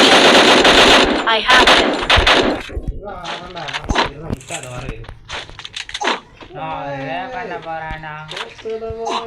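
Rapid automatic gunfire from the Free Fire mobile battle game, loud bursts of machine-gun shots rattling at the start, then scattered shots and cracks mixed with game effects and a voice talking.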